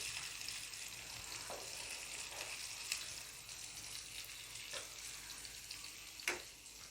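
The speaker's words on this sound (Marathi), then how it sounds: "दोन्ही बाजूने छान खरपूस असे आपल्याला हे मासे फ्राय करून घ्यायचे आहेत" Tilapia fish frying in a pan over a low flame give a steady, soft sizzle with a few sharper pops and crackles scattered through, quiet and close with no talking.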